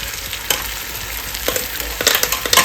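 Ground tomato and onion paste going into a hot pan for a stuffed squid curry, giving a continuous frying sizzle with a few scraping stir bursts, loudest near the end.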